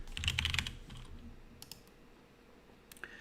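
Quick bursts of typing on a computer keyboard, close and crisp, with a fast flurry of keystrokes at the start followed by a few scattered clicks and pauses.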